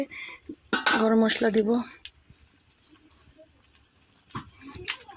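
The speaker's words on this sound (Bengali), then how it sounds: "আমার তরকারিটা ফুটে গেছে, এখন আমি গরম মশলা দিব।" Garam masala being added to a pot of boiling curry, with metal utensils clinking sharply against the pot in short bursts at the start and end while a voice talks in between.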